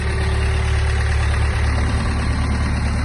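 A Mitsubishi MT-26 Japanese mini tractor engine runs at a steady idle, a constant close, even mechanical hum with a low throb, no speech.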